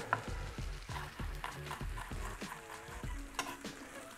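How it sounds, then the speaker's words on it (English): Chopped ginger hits a hot pan for a vegan rogan josh and fries with a steady close sizzle, broken by repeated rhythmic stirring scrapes and clinks, with no talking. "into the pan goes our ginger"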